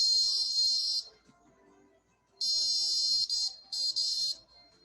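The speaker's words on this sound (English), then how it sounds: "it began beeping and vibrating, alerting the user that the 6-foot detection range has been crossed" A 6FeetApart social distancing wearable sounds a loud, high-pitched electronic beeping alert as a person comes within six feet: one long tone, a pause, then a long tone broken into several bursts, with faint background noise in between.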